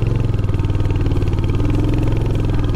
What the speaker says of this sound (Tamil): வண்டி அப்படியே திணறிட்டு தான் ஏறும்